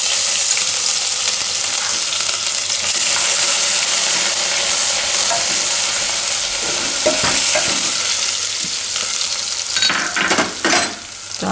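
Whole red chillies, curry leaves and asafoetida sizzle loudly and steadily in hot oil, with a spoon stirring the pan and a few clinks near the end.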